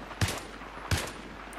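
Two sharp gunshots from the video game Battlefield 3, spaced about 0.7 seconds apart, each a loud crack with a short decaying tail, heard alone without talk.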